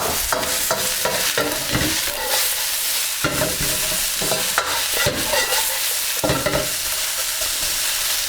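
Onions and peppers stir-fried in a pan for Chinese takeaway-style satay beef, giving a loud, continuous sizzle broken by repeated scraping stirs close by.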